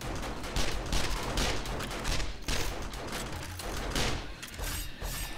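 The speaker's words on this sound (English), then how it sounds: "First fire machine gun." Machine gun fire in the co-op horde night of the video game 7 Days to Die, dense sustained rapid bursts of gunshots with loud impacts and booms, continuous and close throughout.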